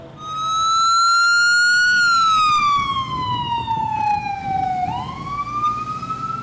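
A Red Cross ambulance siren in Tijuana wails loudly and close as it rushes to a shooting scene, its pitch sweeping down slowly and then jumping back up over low engine rumble.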